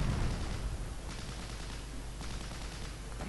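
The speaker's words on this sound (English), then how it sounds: "we're taking quite some fire here" Gunfire and mortar fire in the Close Combat: Last Stand Arnhem war game, a dense, continuous roar of shots and blasts with no break, moderately loud throughout.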